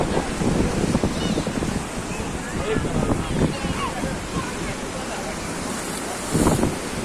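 Sea waves breaking along the Kanyakumari coast, a steady roar of surf with gusts of wind buffeting the microphone and someone speaking over it.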